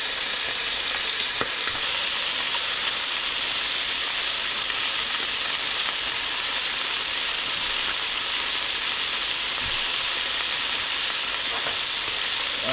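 Chicken adobo frying in oil in a partly covered pan on a stove, a constant close crackling sizzle and hiss that runs unbroken for about thirteen seconds with no voices.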